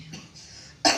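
A single sharp cough from a patient bursts out near the end after a quiet pause, close and loud, with no talk.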